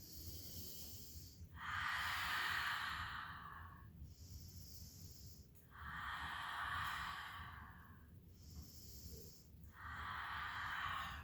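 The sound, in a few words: children's deep breathing exercise, in and out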